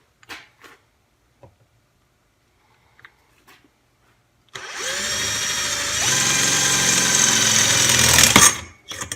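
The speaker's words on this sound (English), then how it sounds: "this is one of the steel drill bits that came with the kit itself. So let's try this baby out" A SnapFresh 20V cordless drill with a steel bit whirs up loudly after a few faint knocks, spinning steadily for about four seconds with a slight pitch shift, then winds down.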